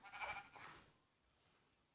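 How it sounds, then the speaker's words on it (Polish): A sheep in the Minecraft video game bleats twice in quick succession, short close cries followed by near silence and a faint click at the end. "Kto to? Owca więzienna."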